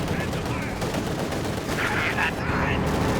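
Machine gun fire in Company of Heroes 2, a World War II strategy game, crackles in continuous rapid bursts through a busy battle soundscape, with a commentator speaking over the action.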